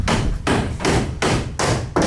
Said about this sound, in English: hammering like that above your head all day.